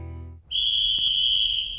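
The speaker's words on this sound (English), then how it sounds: "Gotta be a police whistle, right?" A police whistle in an anime gives one shrill, steady blast that cuts in sharply after a brief lull and holds loud to the end.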